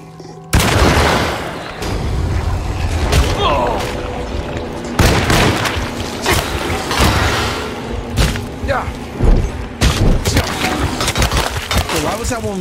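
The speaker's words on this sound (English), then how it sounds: "I hit him with the shotty. I hit him with the pistol." Shotgun and pistol blasts from the horror game Alone in the Dark ring out as a string of loud, sharp booms at irregular intervals, with a voice talking underneath.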